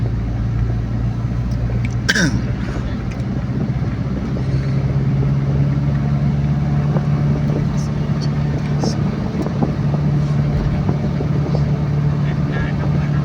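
A Suzuki car drives along an open road, giving a steady loud engine drone and rumble throughout while people talk inside.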